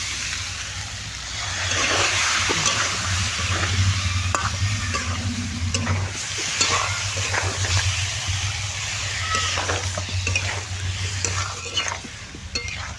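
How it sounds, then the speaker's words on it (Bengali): Fried potatoes, for a prawn and potato curry, sizzle steadily in a pan while spices go in and a spatula stirs and scrapes through them, the hiss and scraping continuing closely for over ten seconds. "আলুটা আমার ভাজা ভাজা হয়ে গেছে, আমি এখন মশলাগুলো দিয়ে দেবো।"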